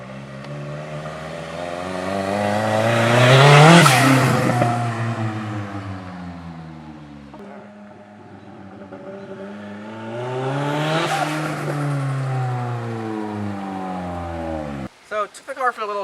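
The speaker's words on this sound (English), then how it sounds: "You rev it up high." Turbocharged KA engine in a Nissan 240SX drift car revs loudly and close up, rising to a high peak and falling away, then climbing again into a sustained rev before cutting off abruptly, with brief voices near the end.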